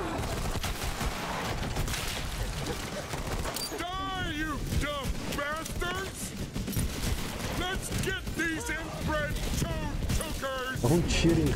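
Rapid bursts of gunfire in the video game Borderlands 3 crackle over a busy mix of music and sound effects, with someone talking over the action.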